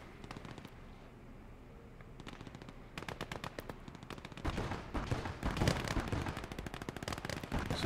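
Heavy gunfire from a Bofors cannon in the WWII game Gates of Hell: Ostfront, battling on a farmstead map, with rapid bursts and repeated shots building to a dense, loud barrage.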